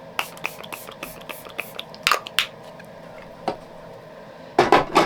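A makeup setting spray gives a few quick, light spritzes close by, short hissy bursts among small ticking handling sounds, with a louder cluster of sprays at the end.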